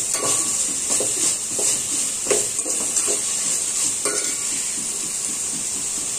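Masala paste for vegetable biryani is stirred and fried in a pan, making a continuous moderate sizzle with soft scraping and a few metallic clinks of the spoon.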